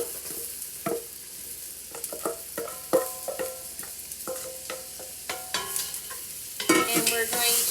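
Minestrone vegetables are tossed into melting butter and stirred in a pan, giving a steady sizzle under repeated clinks and scrapes of the spoon, then a louder burst of frying near the end.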